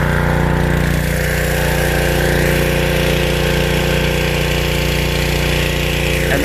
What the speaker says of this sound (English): Now we're going to send the jet down through there.